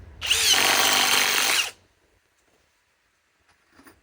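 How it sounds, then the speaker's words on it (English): A RIDGID impact driver runs in one loud, steady burst of about one and a half seconds, followed by near silence with a faint clatter at the end. "I love the sound of impacts in the afternoon."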